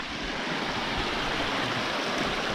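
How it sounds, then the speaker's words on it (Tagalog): Steady, loud rush of floodwater flowing in a river on the trail to Tugonan Falls in Agusan del Sur, a continuous broadband roar with no pauses and no voices. "Baha ni."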